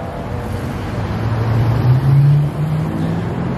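A Mercedes G-Wagon's V8 bi-turbo engine rumbles at close range in Miami, with a steady low idle that swells briefly and then settles.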